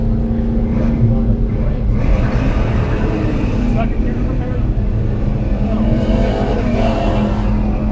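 A 1979 Chevrolet Camaro race car at an autocross event, the Solo Nationals, gives a loud continuous engine roar. A commentator's voice runs over it throughout.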